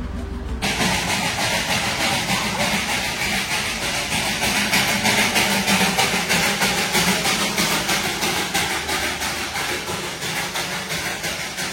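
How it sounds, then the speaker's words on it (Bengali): Darjeeling toy train pulling out of a station, a steady engine rumble with hissing steam and rhythmic chuffing, loud and close throughout, no talking. "এইখান থেকে এক্ষুনি ট্রেনটা গেল"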